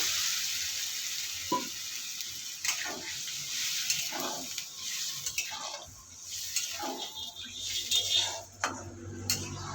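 Tiger prawns in hot oil for a spicy oil-chili curry sizzle steadily as gravy is poured in, with intermittent spoon and pan clinks over the continuous frying hiss.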